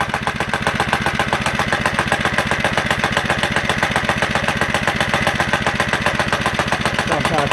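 Motovox minibike engine running at a steady, rapid putter, loud and close, holding an even rhythm throughout.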